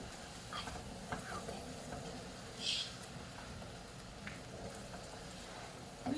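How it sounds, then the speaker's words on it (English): Meat frying in a pan while it is stirred, with a continuous sizzle under scattered scrapes and clinks of a utensil, close and moderately loud. "keep stirring the meat as you go"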